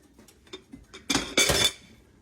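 Ceramic saucer set over a pot of boiling potatoes on a stovetop as a lid, giving a couple of close, bright clinks and a brief scrape after a few faint taps.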